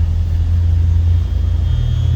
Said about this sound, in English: Air conditioning kicks on.